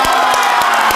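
A school crowd at a high school scholarship event cheering and clapping, loud excited voices in a brief one-second burst.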